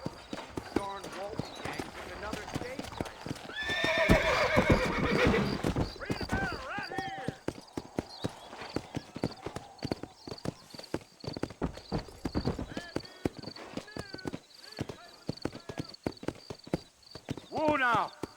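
Horse hooves clip-clop steadily on a dirt road in the Western video game Red Dead Redemption, with a horse whinnying partway through and characters talking over the hoofbeats and music.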